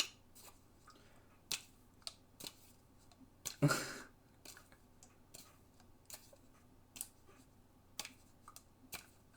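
Quiet, sparse typing on a computer keyboard, isolated clicks and short bursts spaced a second or so apart, with one louder rustling clatter partway through and no talk.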